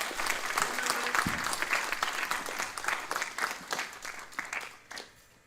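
Audience at a Gurukula gathering gives a big round of clapping, full and lively at first, then thinning to scattered claps and fading out near the end.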